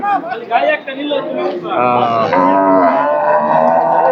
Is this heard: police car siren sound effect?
no